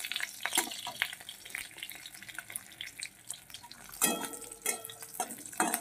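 Cauliflower leaves dropped into hot oil with browning garlic, a crackling sizzle with stirring scrapes and a few sharp bursts of spatter, close and moderately loud.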